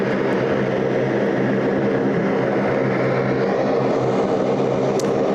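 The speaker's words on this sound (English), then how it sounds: "Jetstar 811 just dropping in there from Brisbane this morning. A321 Neo." Jetstar Airbus A321neo arriving on a flight from Brisbane, landing at Sydney Airport on a busy morning, a steady broad engine roar heard from the ground that holds level throughout without voices.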